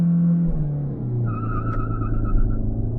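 A Ford EcoSport Titanium diesel with manual gearbox revs hard to 5000 RPM and launches in first gear, with a rising high-pitched whine of spinning tires over the steady engine roar.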